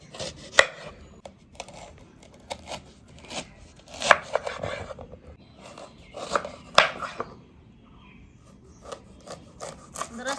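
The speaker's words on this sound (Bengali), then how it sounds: "আমি একটা গন্ধরাজ লেবু নিয়েছি, এই লেবুটা কেটে আগে লেবুর যে রসটা আছে সেটাকে কিছুটা বের করে নেব।" A knife cuts a gondhoraj lemon in a home kitchen, with a series of sharp, separate chops and slices against a board, irregularly spaced, close and clear, with soft rubbing scrapes between cuts.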